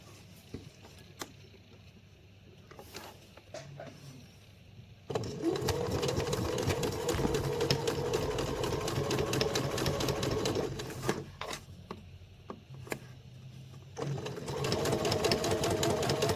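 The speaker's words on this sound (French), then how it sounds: "On fait donc notre couture au point droit dans la pliure." A sewing machine runs a straight stitch along a folded edge of fabric for a pennant bunting banner, with a steady whirring burst starting a few seconds in, pausing briefly and resuming; close and fairly loud, with no talking.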